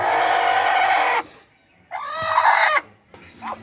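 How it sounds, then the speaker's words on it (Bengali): A broody hen clucks and grumbles in several loud, close bursts separated by short pauses, with no talking. "এই যে এটা এই মুরগি কুচে লেগে গেছে"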